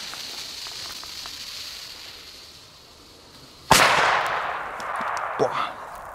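A German Weko China Böller D firecracker goes off on a hand with one sharp, loud blast that cuts through quiet outdoor background and then trails into a noisy, decaying wash.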